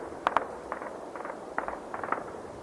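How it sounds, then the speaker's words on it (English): Intermittent sharp gunfire reports, some in quick pairs, sounding distant and moderately faint against a low background hum during a live news broadcast on the US and Israeli attack on Iran. "Still hearing gunfire."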